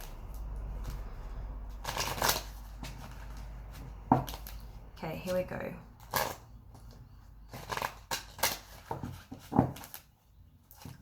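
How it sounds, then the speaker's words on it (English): Tarot cards being shuffled repeatedly in quick riffling bursts, close and fairly soft, with a few spoken words at the start. "I know I shuffle a lot"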